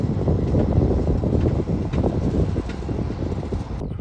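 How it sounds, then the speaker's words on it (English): Crawler tractor engine running out in a farm field, a steady, loud low rumble with a rough, barking texture that holds throughout, no voices over it. "Listen to that crawler bark. It's a hell of an engine."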